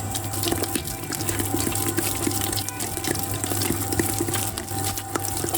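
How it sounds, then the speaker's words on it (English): Water poured slowly into Roman-style pizza dough, a steady broadband trickle with soft splashing running continuously and fairly close, no voices present. "We wanna incorporate the water slowly and we wanna give time to the dough to absorb all the water"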